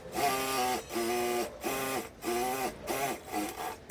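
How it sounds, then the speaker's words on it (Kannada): A sewing machine double-stitches lehenga lining in quick bursts, five or six short runs of steady mechanical whirring with brief pauses between, close and fairly quiet, with no voices. "ಡಬಲ್ ಸ್ಟಿಚ್ ಹಾಕ್ಕೊಳ್ಳಿ."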